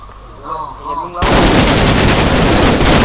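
Gunfire in Minecraft erupts suddenly after a quiet moment with a voice talking, becoming a loud, dense, continuous burst of rapid shots that lasts to the end.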